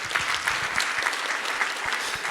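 A small room audience claps in a brief burst of uneven, close handclaps that stay steady for a couple of seconds.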